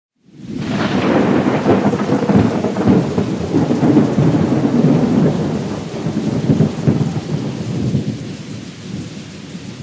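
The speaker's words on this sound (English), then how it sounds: "It's starting to storm." An outdoor thunderstorm breaks in, a sudden loud rumbling onset followed by sustained rolling thunder and rain that gradually eases toward the end, no talking.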